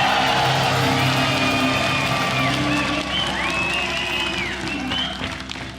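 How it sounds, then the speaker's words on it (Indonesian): A large audience applauds and cheers for Indonesian Army Brigadier General Fitri Taufik Sahari at a televised studio event. The clapping is dense and steady at first, with a sustained tone over it, then eases slightly toward the end. "boleh minta tepuk tangan untuk Brigjen TNI Fitri Taufik Sahari"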